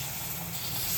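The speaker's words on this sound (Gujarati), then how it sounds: "હવે આપણે આમાં થોડુંક દૂધ ઉમેરીશું" Milk poured into roasted flour for Gujarati sukhadi sets off a steady, even hiss and sizzle from the hot pan, close and continuous for the whole moment with no talking.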